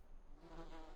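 A short stretch of buzzing from a bee or wasp nest in the Voices of the Void game, a continuous droning hum that grows slightly louder partway through.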